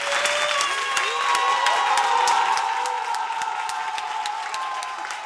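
An audience of women at a radio show event in Port-Bouët, Côte d'Ivoire, applauds loudly, a steady wash of clapping with scattered sharp claps that gradually eases off over several seconds.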